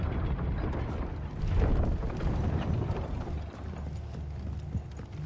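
Horse hooves clip-clop in Final Fantasy XVI, a low rumbling trot of several horses mixed with mechanical rattling and game ambience, steady and fairly loud throughout.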